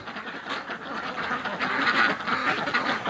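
Muscovy ducks in a winter setting give a continuous stream of overlapping quacks and calls, close and fairly loud, with steady flock chatter throughout.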